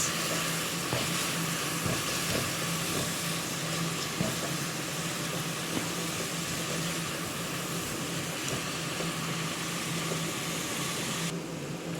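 Sliced onions frying in a pan while shrimp waits to go in, giving a steady, dense sizzle that holds at an even level throughout, close up with no one talking.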